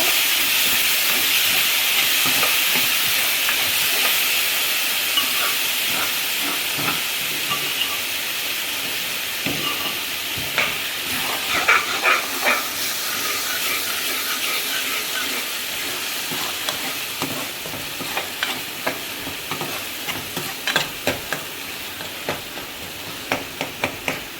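Ingredients for a Navratri fasting thali roast in a pan with a steady, close hiss that gradually softens, while sharp crackles and spatters grow more frequent toward the end, with no voices.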